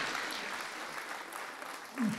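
Audience applause at a Macedonian stand-up comedy show, a dense spread of clapping at moderate loudness with a voice cutting in near the end.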